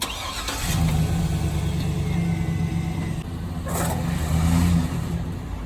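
Honda Civic hatchback with no front bumper roaring under sustained hard acceleration, a loud, steady engine drone with a brief tire-spinning rise near the end, as in a burnout, close by with no talk.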